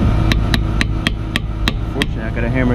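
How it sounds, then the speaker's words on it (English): A hammer strikes lug studs into a 2005 Dodge Magnum front hub, about eight sharp metallic blows in an even rhythm, loud and close, with a faint ringing scrape at the end. "I gotta hammer some of these on."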